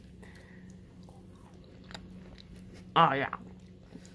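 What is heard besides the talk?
eating and chewing peeled fruit, mukbang ASMR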